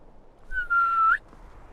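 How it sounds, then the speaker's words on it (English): A horse whistle in Skyrim, played during a Requiem permadeath run: a single clear, sustained whistle note lasting about half a second that rises slightly at the end, heard alone over a quiet background. "I guess this is why I've got the horse whistle, right?"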